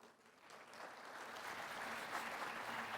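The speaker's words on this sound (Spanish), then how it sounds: "Les pido un fuerte aplauso para todo el panel." Applause from an audience at a mining conference panel session, a dense wash of clapping that swells steadily and holds full for three seconds, with no voices over it.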